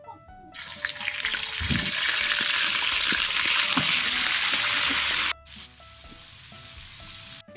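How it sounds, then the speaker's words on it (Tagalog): Vegetables sizzle and fry in a hot pan with steady crackling and stirring, loud and continuous before cutting off sharply, then a quieter sizzle resumes. "Sunod, pipirito tayo."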